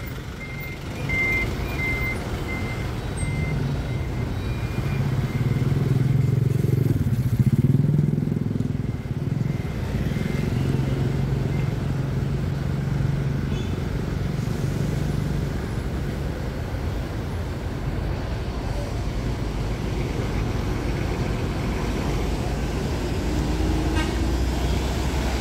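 Mercedes-Benz MB1626 automatic buses pull out of a parking lot, their engines rumbling low and steady for the whole stretch, with reversing beeps and a horn toot over the outdoor traffic.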